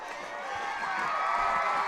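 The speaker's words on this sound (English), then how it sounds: "And you can hear the home crowd roaring." A home crowd roars and cheers at a Gautier versus Pascagoula high school football game, a dense, steady wall of voices swelling slightly louder over two seconds.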